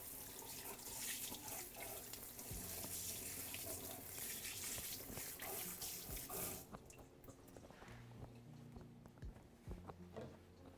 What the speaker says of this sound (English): So we're gonna run those under cold water.